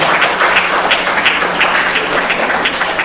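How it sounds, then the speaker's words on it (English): Loud, sustained applause from a congregation at a Sunday program, many hands clapping close and continuously without a break. "please give yourselves a big round of applause"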